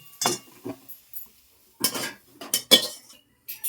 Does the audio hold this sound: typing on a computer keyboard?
no